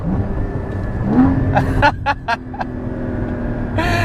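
Porsche Cayman GT4 engine revving with automatic throttle-blip downshifts, a loud steady drone broken by a few quick sharp blips, close and under no clear talk.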